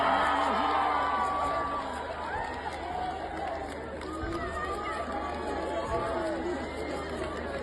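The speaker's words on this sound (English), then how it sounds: "A very sweet roar from the crowd" A crowd in Italy roars and cheers for Princess Catherine, a steady wash of massed voices and chatter that holds for the whole stretch without a break.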